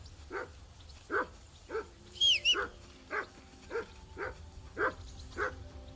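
A dog barks steadily in the medieval video game Kingdom Come Deliverance II, giving about ten evenly spaced, mid-distance woofs with a brief high whine partway through.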